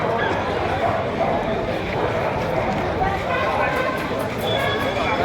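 Dogs bark and yip repeatedly amid the busy bustle of an open-air pigeon market, with steady crowd noise and voices underneath the barking.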